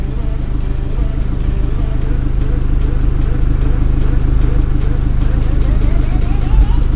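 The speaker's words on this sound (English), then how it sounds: "pressing it once, it'll pump up to neutral and it'll stop." Air suspension compressor on a vehicle with a 2-inch extended Airbag Man full air kit, pumping up the airbags from low to neutral: a steady buzzing mechanical drone that runs continuously throughout, with an idling engine low underneath.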